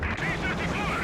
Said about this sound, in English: The howitzers keeping the pressure on their allies as they get forced back here.